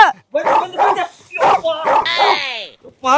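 A dog barks and whimpers in short bursts close by, mixed in with loud voices talking.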